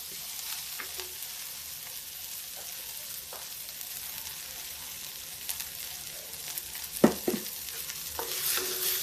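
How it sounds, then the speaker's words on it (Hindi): Onion fries with asafoetida and cumin in an iron kadhai, a soft, steady sizzle broken by scraping stirs of a spatula and a sharper metallic clack near the end. "प्याज को थोड़ा हल्का ब्राउन होने तक पकाएंगे, ज़्यादा नहीं, थोड़ा सा इतना पकाइए कि प्याज की मिठास खत्म ना हो।"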